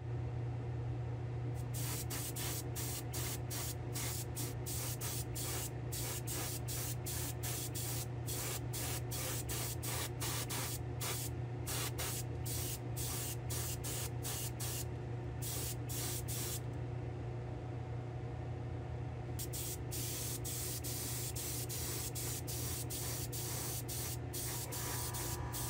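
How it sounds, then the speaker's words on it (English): A spray gun lays clear coat on a custom build made from spare parts inside a spray booth, giving a loud, steady hiss broken by short repeated pulses of the trigger throughout, with no talking. "I'm going to get this clear coated and we'll get the top clear coated"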